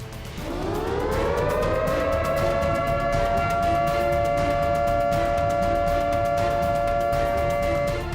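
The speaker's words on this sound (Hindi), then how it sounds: "और वार्निंग सायरन बजाता है" A loud warning siren wails steadily, rising at the start and then holding a sustained tone throughout, with no voices.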